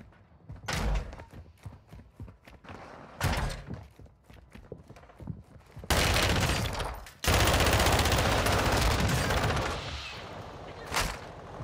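Bursts of FR Avancer fire in Warzone 2, with short rapid volleys early on and a loud sustained stretch of automatic fire in the middle, plus scattered thuds and a final sharp shot.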